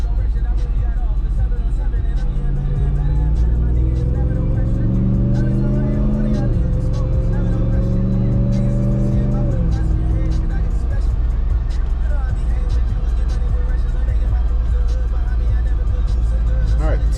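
A 2022 Ram TRX fitted with an AFE cold air intake drives on a New York highway, its engine droning loud and steady with two rising pitch sweeps as it accelerates through gears, constant road roar throughout.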